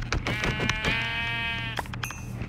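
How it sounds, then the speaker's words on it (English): A Minecraft sheep bleats in one drawn-out wavering cry, clear and near, amid game background sounds. "I thought I saw another sheep over here."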